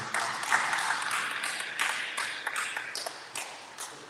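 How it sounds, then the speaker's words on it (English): Applause rises from the audience at a reparations roundtable: scattered, moderately faint clapping with uneven bursts and a few brighter, ringing hits, continuing for several seconds. "Let's give it another round of applause"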